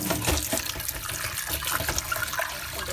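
Running tap water splashes into a sink as shrimp are rinsed by hand to wash out vinegar, a close, continuous gurgling flow with small sloshing bursts.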